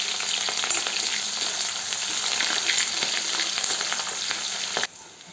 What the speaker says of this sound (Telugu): తిరగబాత వేసేసుకున్నాం. అందులోనే వట్టిమిరపకాయ, కొద్దిగా తెల్లగడ్డ, అందులోనే ఎర్రగడ్డ, కరివేపాకు